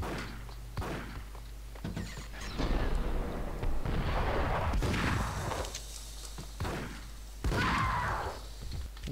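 Gunfire from the Max Payne video game, repeated heavy shots and thudding blasts in bursts over a steady low hum, loud and close, with no talking.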